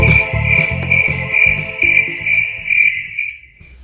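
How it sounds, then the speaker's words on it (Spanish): Steady, bright cricket chirping trills repeatedly and loudly, accompanied by a rhythmic low-pitched pulsing beneath it that fades near the end. "El grillo canta alegremente"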